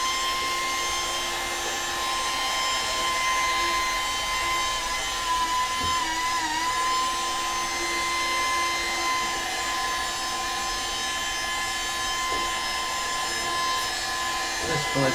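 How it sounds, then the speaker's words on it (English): A vacuum cleaner with a tube and nozzle runs steadily and close, a constant whine with a stable tonal hum, sucking up fibres, with slight changes in pitch as it moves. "hopefully that will stop me getting covered in fibres when I'm vacuuming"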